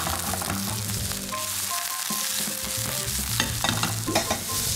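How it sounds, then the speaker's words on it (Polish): White onions fry in a couple of spoonfuls of olive oil in a pan, giving a steady close-up sizzle with stirring scrapes and small clinks, louder toward the end. "Do różanej patelni dodam 2 łyżki oliwa. Zaczynamy zmazić cebulę."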